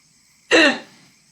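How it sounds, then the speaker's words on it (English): A single sharp, close hiccup bursts out once, loud and abrupt, then trails off into quiet with no talking. "I told you I had the hiccups."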